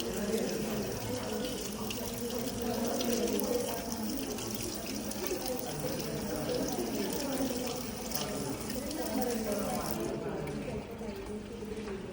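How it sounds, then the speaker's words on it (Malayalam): Concentrated hydrochloric acid runs along a glass rod into a beaker at a chemistry lab bench, a soft, steady liquid trickle lasting several seconds with a person talking over it. "ഇതിൻ്റെ ഉള്ളിലേക്ക് ഈ ഗ്ലാസ് റോഡിലൂടെ തന്നെ ഇങ്ങനെ ഒഴിക്കുന്നു."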